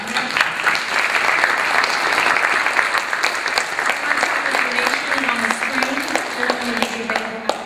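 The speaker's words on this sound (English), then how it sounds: "what I need right now is for you to go ahead and clap and applause for Dr. Carter and Dr. Mackey." Audience at a leadership conference applauding two speakers: loud, continuous clapping from a large crowd, with a voice faintly audible beneath it toward the end.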